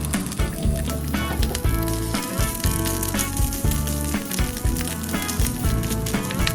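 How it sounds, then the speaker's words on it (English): Bamboo shoots saute in a teaspoon of sesame oil in a pan, giving a dense continuous sizzle and crackle with rhythmic low thumps and scrapes as they are tossed, no speech. "add the bamboo shoot to the pan and saute it"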